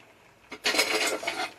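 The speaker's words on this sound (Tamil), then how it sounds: "இப்போ வந்து மூடி போடுறோம்." After a brief quiet moment, a single scraping, clattering rattle of a lid being set onto a pressure cooker of boiling lentils and greens, close and short.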